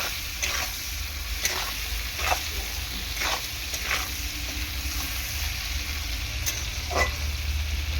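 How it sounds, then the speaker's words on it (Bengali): Prawns seasoned with salt and turmeric fry in a pan with a constant close sizzle, while a utensil stirs and scrapes through them at regular intervals. No one speaks. "চিংড়ি মাছের মধ্যে দিয়ে দিলাম পরিমাণ মতো লবণ দিয়ে দিলাম পরিমাণ মতো হলুদ গুঁড়ো দিয়ে ভালো করে এরকম ভেজে নেব"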